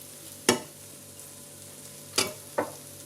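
Pork chops frying in a pan for Hong Kong style baked tomato pork chop rice give three short, sharp sizzling bursts over a steady low kitchen hum, with no talking.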